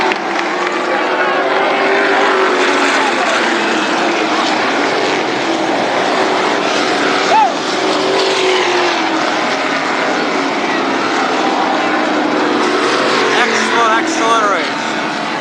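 Late models, sportsman cars and super sprints roll past on the Berlin Raceway oval during a slow victory lap. Loud, continuous engine roar fills the whole stretch, with overlapping motors close by and a single pitch sweep near the middle.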